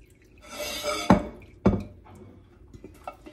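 Liquid being strained while making ghee and cheese: a soft, steady pour and drip, punctuated by two sharp clinks of a pot or utensil, then faint trickles and small taps, close by and without talk.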